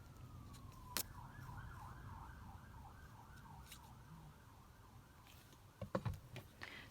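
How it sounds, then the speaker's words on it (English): A wailing emergency siren rises and falls steadily in the distance over low traffic rumble, with a few sharp knocks near the end. "Sorry about the siren. Sometimes they're really loud, aren't they?"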